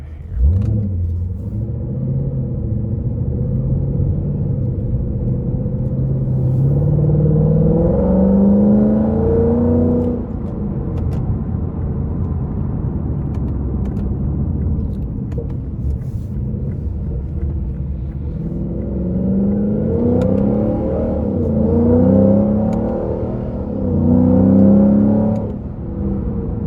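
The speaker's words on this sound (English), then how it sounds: "on the straight line, you can definitely tell it's a V8" A 2016 Lexus RC F with its V8 engine accelerates hard from inside the cabin, a loud rumbling roar with rising harmonic sweeps as it climbs through the revs twice, easing off in between.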